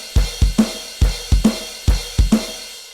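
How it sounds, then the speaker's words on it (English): Crash cymbals struck in a steady quarter-note rhythm over a swung eighth-note bass drum pattern, loud and close, each hit washing out before the next, with no talk. "And then it goes into a nice quarter note rhythm up on the crash."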